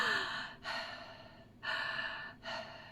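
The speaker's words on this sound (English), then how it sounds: "air breathing, which is when you breathe in through your mouth and out through your mouth" Three slow, audible breaths drawn in and let out through the mouth, each a soft airy rush lasting about a second, close and fairly quiet with short silent gaps between them.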